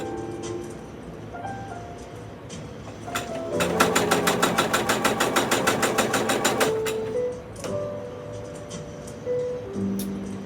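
A home sewing machine stitches in a fast, even burst of needle strokes for about three seconds, loud and close, with quieter handling noises before and after.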